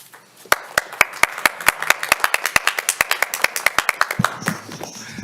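Applause from a city council meeting audience in Reno, a brisk run of sharp, evenly spaced claps that starts after a quiet moment and continues steadily before thinning out, moderately close.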